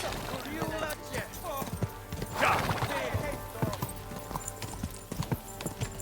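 Horse hooves gallop in the medieval video game Kingdom Come Deliverance 2, a fast, steady clip-clop close up under speech, with a brief whinny partway through.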